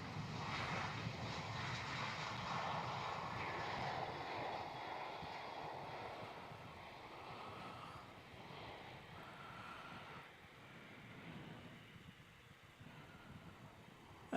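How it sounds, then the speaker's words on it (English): A Qantas airliner taking off from a Melbourne Airport runway, a broad roaring engine rumble that is loud at first and then fades gradually as the aircraft climbs away. "Oh yeah, Qantas 880 Airborne"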